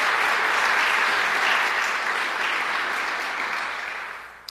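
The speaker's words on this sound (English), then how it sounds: "Can we have another round of applause for the governor?" A crowd applauds Governor Kathy Hochul at an event on free community college in New York, a full, even burst of clapping that swells and then gradually tapers off toward the end.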